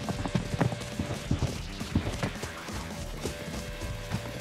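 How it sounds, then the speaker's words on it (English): Rapid footsteps of players in the Arena Breakout shooter thud behind in an uneven, quick patter of separate impacts, fairly faint and close-miked, with no speech over them. "I heard footsteps behind us."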